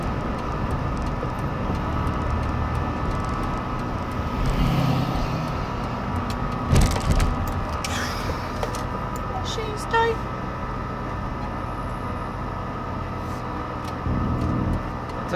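Jeep driving along a road, a steady engine and tyre rumble holding at an even level throughout, with a few faint knocks and passing noises over the constant drone.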